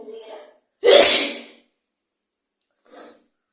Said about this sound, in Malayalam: ഇന്നത്തെ അന്നത്തെക്കാട്ടി തുമ്മിയെന്ന് തോന്നുന്നു കേട്ടോ ഈ വട്ടം